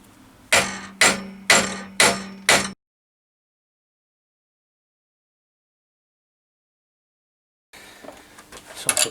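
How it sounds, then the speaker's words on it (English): A socket is hammered against a metal elastic bush held in a heavy vise on a Triumph, with five sharp, ringing metallic blows in quick succession, then silence, then fainter clattering handling noises. "I'm going to try pulling the metal elastic bush out using a socket."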